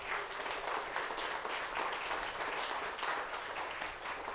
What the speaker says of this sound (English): Please give a round of applause for Mayor Hart.